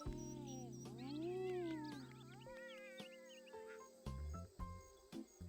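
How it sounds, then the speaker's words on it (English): Children in a Zoo Tycoon 2 game making cat noises at snow leopards, a run of sliding, wavering meow-like cries, fairly loud and close, with other chatter and game sounds mixed in. "The children are making cat noises because they're looking at the snow leopards."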